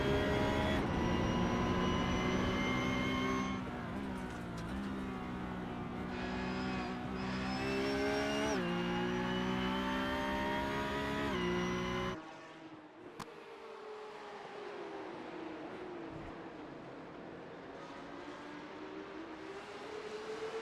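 Porsche Cup race cars lapping Imola, engines droning loud and close with rising and falling pitch through gear changes, then dropping to a quieter, more distant roar about halfway through; no talk.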